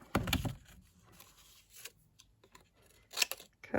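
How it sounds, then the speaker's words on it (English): Scissors snipping through heat-embossed craft card while trimming a corner pop-up card, a few crisp close cuts in short bursts with quiet pauses between. "cut all these bits off to make handling this a little bit easier"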